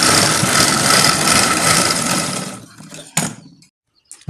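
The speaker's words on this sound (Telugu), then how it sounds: "ఫస్ట్ ఇలా లాస్ట్లో ఒక కుట్టేసుకోరండి." A sewing machine stitches along a blouse border in a steady, loud, fast whirring run that slows and fades out, followed by a sharp clunk and a couple of small clicks near silence.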